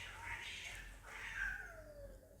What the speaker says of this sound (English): Some cats are just battling outside.